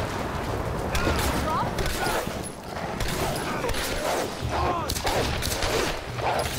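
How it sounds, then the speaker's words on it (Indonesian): Gunfire rattles during a shootout in the Tomb Raider video game, dense bursts of shots mixed with game effects, continuing steadily with a voice talking over it. "Ada tembak-tembakan lagi di depan."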